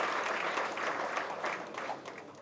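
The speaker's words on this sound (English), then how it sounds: "I think a big applause" Applause from the audience at a short film launch event in India, a dense wash of clapping that stays steady and fairly loud throughout the brief stretch, with no voices over it.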